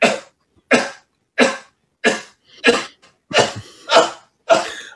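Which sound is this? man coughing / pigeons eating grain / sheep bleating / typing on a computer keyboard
man coughing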